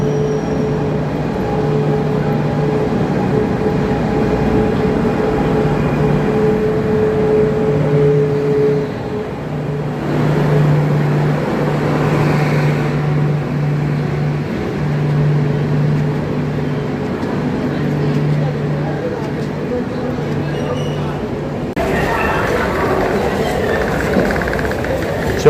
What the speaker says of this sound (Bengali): আর ট্রেন ঢুকছে।